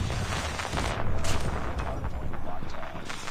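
Bursts of rapid automatic fire from an M4 LMG used by a bot in COD Mobile rattle close and loud across the whole stretch, with a louder volley midway and a voice partly under it.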